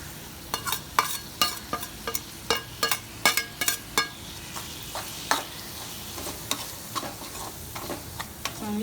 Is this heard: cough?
no